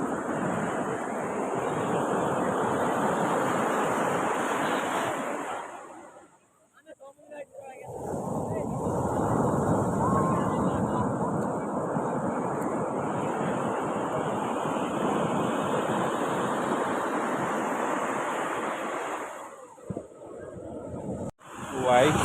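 Sea waves roar onto the beach at Puri, Odisha, a loud, continuous rush of surf with wind buffeting the microphone, easing briefly in a short lull before surging back.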